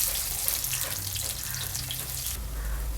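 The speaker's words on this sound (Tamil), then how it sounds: "வெங்காயத்தை ஒரு நிமிஷம் நல்லா வதக்கிட்டோம்" Small shallots frying in hot oil for sardine curry, a steady close sizzle and crackle with faint stirring, continuing without talk.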